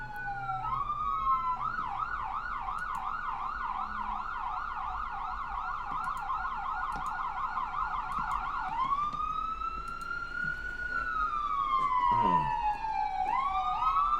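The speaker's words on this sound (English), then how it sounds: "Is that an ambulance? Yes, that's an ambulance." An ambulance siren wails in a fast repeating yelp, then shifts to a slower rising and falling tone, moderately distant with faint background noise.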